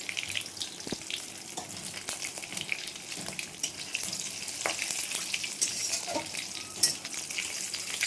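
Whole mustard seeds crackle and sizzle in hot oil for a vegetarian curd paneer curry, a steady close-up hiss with scattered sharp pops and a few utensil clicks, no talking.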